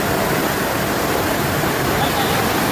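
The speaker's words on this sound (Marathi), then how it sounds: "त्यात वाड्याला पाणी पण बघा कसलं जोरात आहे" Floodwater rushes strongly past a flood-broken village bridge, a loud, steady broadband roar of torrent that fills the whole clip without a break, close and unrelenting.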